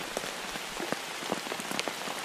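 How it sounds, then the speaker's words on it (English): Steady rain patters on a Kelty military field tent during a night test, a dense hiss of drops with scattered louder taps close by, no voices. "it's been raining pretty good off and on all day"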